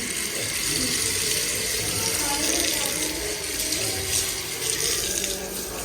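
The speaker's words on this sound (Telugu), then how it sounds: "చాలా నీట్గా కాళ్ళు అయితే కడుక్కొని కాళ్ళు అయితే కడిగేసుకుంటున్నాం." Water runs steadily from taps at a foot-washing area of the Jebel Ali Hindu temple in Dubai, a constant close splashing hiss with faint voices underneath.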